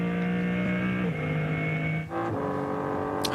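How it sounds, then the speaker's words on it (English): A BMW M3 Touring race car with a BMW M4 GT3 turbocharged engine howls at sustained high revs in a 24-hour Nürburgring qualifier, its note dipping briefly at an upshift and again near the end, loud and without talk. "listening in to what is effectively still the BMW M4 GT3 turbocharged engine"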